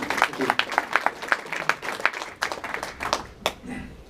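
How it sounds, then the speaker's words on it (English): Audience at a Sydney PHP meetup claps in a steady burst of applause that stays close and moderately loud, with individual hand claps audible throughout before it begins to thin out. "please give a big round of applause here for Andi Gutmans, CEO and co-founder"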